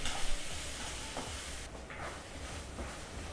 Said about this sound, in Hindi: और इसको भून लेते हैं अच्छे से।